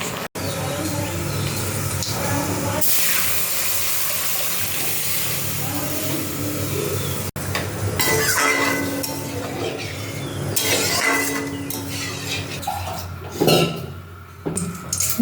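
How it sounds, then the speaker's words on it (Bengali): Cumin seeds are tempered in hot oil for a vegetarian spinach dish, giving a loud, sustained sizzle and hiss with occasional clinks of utensils against the pan. "জিরে ফোড়ন দিলাম"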